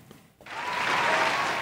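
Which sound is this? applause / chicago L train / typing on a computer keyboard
applause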